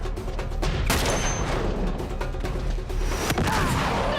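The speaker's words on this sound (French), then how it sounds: "Pas tant qu'il nous tire dessus, nom de Dieu!" Gunfire fills a firefight in the Uncharted 3 video game, a dense, continuous barrage of shots and blasts that stays loud and close across the whole stretch, with no clear pauses.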